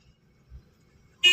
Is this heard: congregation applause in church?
no